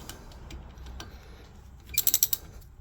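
A ratchet snugs the front brake caliper bolts on a 2004 Honda Pilot EX-L. A quick burst of sharp, rapid pawl clicks follows a low, muffled workshop background, close and loud.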